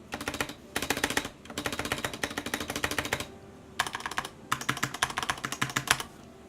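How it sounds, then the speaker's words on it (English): Close bursts of rapid key presses on a Corsair K70 Mk2 Special Edition keyboard, including the spacebar, enter and caps lock keys, in clattering runs separated by short pauses. "I'm going to hit the spacebar, enter key, and caps lock key, so you can hear what those sound like."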